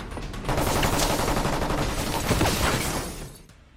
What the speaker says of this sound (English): That is until Bayer's guys show up and start shooting.